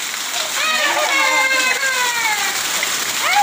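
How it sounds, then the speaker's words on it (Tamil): Heavy rain pours down as a dense, steady hiss throughout, loud and close, while a voice talks over it. "நல்ல மழை பெய்யுது"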